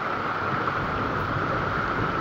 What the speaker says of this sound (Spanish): ¡Qué tormenta va, Julio!